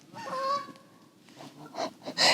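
Geese honk loudly and nearby, a few drawn-out calls followed by a flurry of shorter, overlapping honks over a breezy outdoor background.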